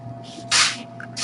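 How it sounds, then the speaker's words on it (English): Short bursts of disinfectant spray hit a bag: a soft puff, then a stronger hiss, then another spray starting, close and quiet in a calm room. "so we could just spray the bag"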